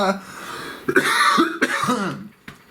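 A couple of short, sharp coughs and throat-clearing sounds break up a voice that talks close to the microphone.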